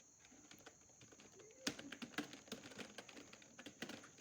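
Computer keyboard typed on while entering Java code, a quiet run of close, irregular key clicks that starts sparse and becomes a busier patter of keystrokes, with no talking.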